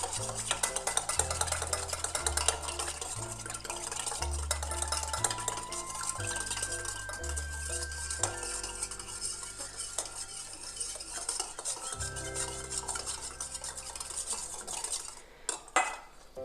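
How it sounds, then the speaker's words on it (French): Spoon scraping and clinking against a bowl while a homemade sage and bergamot natural deodorant mixture is stirred, steady and close, beneath loud rhythmic background music with a bass line. "On continue à bien mélanger."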